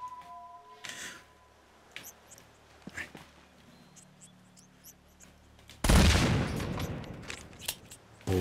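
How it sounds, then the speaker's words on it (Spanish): Explosions in the Uncharted video game on PS3: a loud broadband burst erupts near the end, rumbling on after scattered smaller impacts and gunfire-like pops over a quieter ambient stretch. "las explosiones parecen nucleares"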